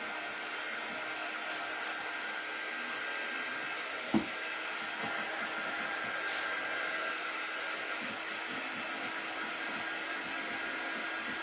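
A hair dryer blows steadily on a strawberry cake decoration, a continuous close, even whoosh held for the whole stretch, with one brief knock partway through.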